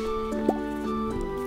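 Plants being watered in the Stardew Valley video game, with short liquid splash and drip effects over steady background game music, no speech.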